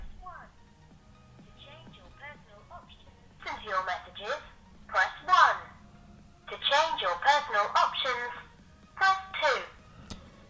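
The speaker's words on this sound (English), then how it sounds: "Let's try out a test call." An Elephone M1 smartphone test call plays a recorded voicemail voice through its earpiece, tinny and thin, in short phrases with pauses over faint background hiss.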